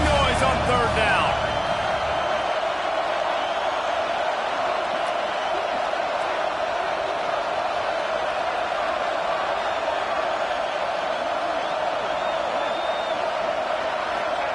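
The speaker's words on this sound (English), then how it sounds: "This dog crowd is off the leash, and they are coming after them, bringing noise on 3rd down." A football stadium crowd roars steadily on third down, a dense, continuous wash of noise with no breaks, as a commentator's voice carries over it.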